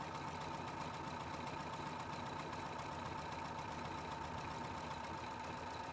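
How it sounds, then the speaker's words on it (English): A Husqvarna Viking Platinum Plus sewing machine stitching a buttonhole, straight stitch then satin stitch, hums with a fast, even mechanical whir, quiet and constant throughout, with no talking. "A straight stitch on the left column is stitched backwards. Then a satin stitch is sewn forward."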